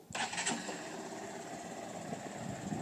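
A Honda CBF125 motorcycle engine catches and settles into a steady idle during a vehicle inspection, with a brief louder burst at the start and then a constant, even running hum.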